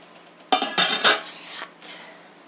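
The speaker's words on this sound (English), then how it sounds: "Carefully dump the water out of it." Glass canning jar lifted from a hot water bath canner and emptied, a few clattering knocks of glass followed by a short splash, close by and fairly loud, with no talking.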